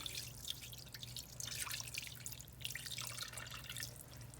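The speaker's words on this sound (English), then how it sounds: "we'll start by adding our sauce that we made over the top" Homemade sauce poured over the top of seasoned food in a pan before lemon zest goes in, giving a steady liquid trickle and dripping, close and continuous with a low hum underneath.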